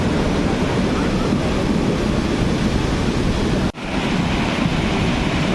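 Floodwater from heavy monsoon rain rushing and rumbling near a rock garden, a loud, continuous broadband roar close to the microphone with wind buffeting, briefly cutting out for a moment before resuming.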